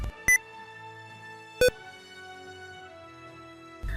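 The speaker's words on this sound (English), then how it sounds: "This is the caps lock sound indicator." Two short, bright electronic chimes of the Windows 10 caps lock indicator ring out about a second apart over a quiet background, the second slightly lower in pitch.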